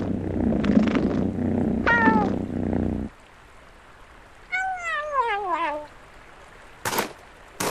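A cat in the game Knight's Path gives a purring rumble followed by several loud rising-and-falling meows, with brief pauses and a short sharp noise near the end.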